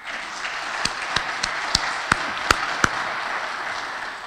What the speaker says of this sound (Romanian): Și pentru asta trebuie să-l aplaudăm.